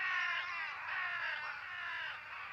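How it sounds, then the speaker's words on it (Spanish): Harsh, crow-like cawing from strange birds, a continuous raspy call running the whole stretch at steady, fairly loud level with no talk over it. "¡Qué aves tan raras! Hasta su canto es extraño."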